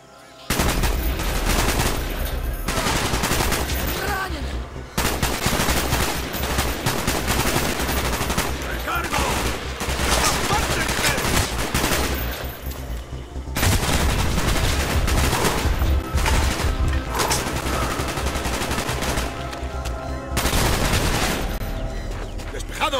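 Sustained heavy gunfire in the video game Call of Duty: Black Ops, rapid automatic bursts and loud blasts, dense and continuous, with faint voices buried underneath.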